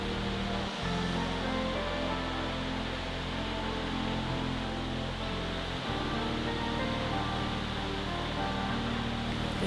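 A constant roar of a waterfall heard from underneath it in Australia, loud and close, a broad hiss that never lets up.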